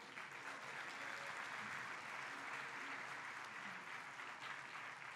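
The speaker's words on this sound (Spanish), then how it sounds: "un aplauso para ti" An audience at a business presentation applauds steadily throughout, a dense, even wash of clapping with no pauses and no voices standing out.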